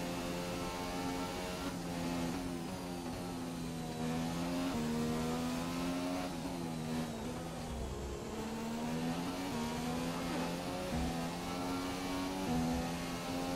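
A McLaren Formula 1 car in F1 2017 revs hard at full throttle, its engine note climbing and dropping through rapid gear changes, continuous and close with no one speaking.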